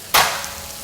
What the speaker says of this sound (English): And you just start frying it around